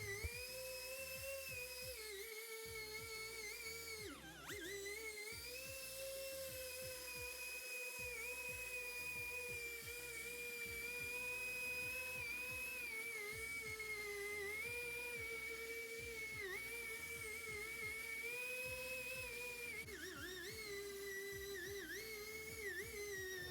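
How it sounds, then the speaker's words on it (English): A machine spins a 3000 to 5000 grit disc across a plastic headlight lens, giving a steady high whine with shifting pitch that dips briefly now and then, constant throughout and fairly faint. "the 3000 to the 5000 grit disc, and all we're doing now is removing the sanding marks from the first step"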